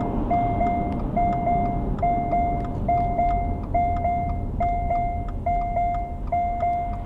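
A Subaru Forester e-Boxer's driver-alert warning chimes in a steady repeating pattern of bright two-tone beeps, roughly one per second, over a low cabin hum while the car sits stopped with hazards on.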